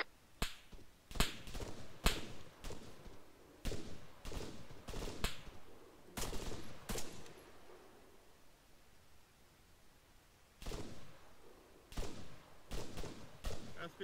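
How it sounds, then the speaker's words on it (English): Arma 3 gunfire cracks out as sharp, separate shots in uneven bursts, clustered early, thinning through the middle and returning toward the end, with players talking quietly underneath. "we're taking fire"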